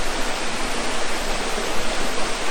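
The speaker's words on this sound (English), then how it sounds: "I've taken pictures here before of that waterfall behind me." A waterfall in the Coopers Creek area rushes in a steady, full roar heard nearby, with no one speaking.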